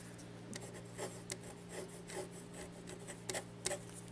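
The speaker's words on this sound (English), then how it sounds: "So let's just get this little jewel going with a fine nib. This is a steel nib," A Jinhao fountain pen with a fine steel nib, inked with Montblanc Royal Blue, scratches softly across paper in short strokes and brief pauses, faint and close, with no voices.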